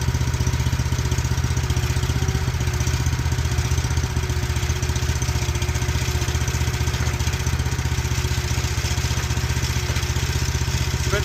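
A post hole digger's small engine runs steadily while warming up, a continuous loud, close putter with an even rhythmic drone and no pauses or talk.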